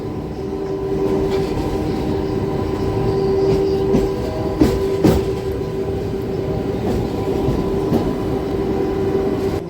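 A MEMU passenger train runs on the rails between Kacheguda and Raichur, a steady close rumble of wheels with a sustained tonal whine and a few sharp clanks midway, heard from inside the moving train.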